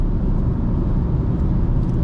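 A 2025 Honda Civic LX cruising on the road, its engine hum and tire roar blending into a steady, loud low rumble that fills the cabin without a break.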